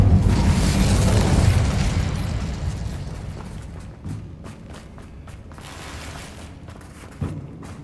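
Incendio fire spell in the Hogwarts Legacy video game, cast during a fight while saving a dragon: a heavy, roaring burst that swells, then fades into crackling, with a few sharper pops later.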